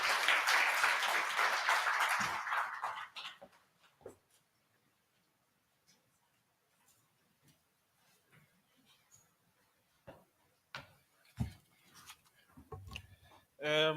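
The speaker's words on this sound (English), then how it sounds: "Another hand of applause for Miss Ndlovu." Audience applause at the launch of a national code of practice for lifting-machine training providers, a broad burst of clapping that fades within about three seconds, followed by near-quiet room noise, scattered clicks and handling sounds.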